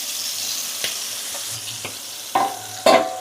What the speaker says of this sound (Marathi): कलेजीचा विषय डेंजर असतो मित्रांनो, ती उडते फडाक्कन, तेल उडवते अंगावरती पूर्ण।